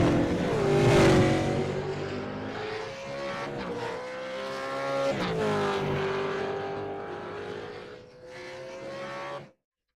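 A race car in Kubota livery motors along a club circuit during a winter series round in Manawatu. The engine note holds a steady, loud drone with rising and falling pitch as it passes, fading out sharply at the end.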